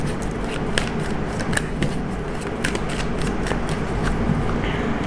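Tarot cards being shuffled by hand make close, repeated crisp riffling snaps and papery flicks in an uneven rhythm, with no talk over them.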